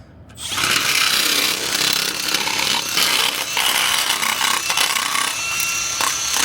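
A Milwaukee M12 2478-20 cordless nibbler cuts through tight angled sections, giving a loud, continuous harsh buzzing rasp that starts about half a second in and holds steady with small dips, close up and without talk.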